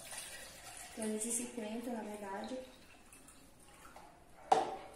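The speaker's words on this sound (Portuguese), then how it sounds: "Vamos começar colocando a água." Water is poured into containers for a quick boiling-point experiment, a soft trickling run under a person talking, followed by a short sharp clink near the end.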